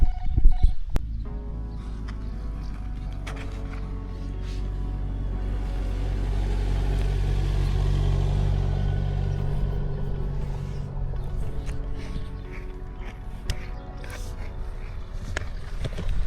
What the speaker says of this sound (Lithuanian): Juda automobiliai.